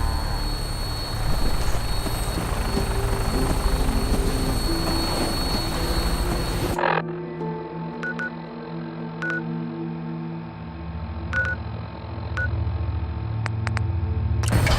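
Fallout 4 aircraft rumbles with a loud droning roar before cutting to a quieter cabin hum, with repeated electronic beeps and chirps from onboard systems.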